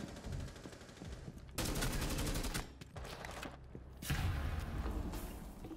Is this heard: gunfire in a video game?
yes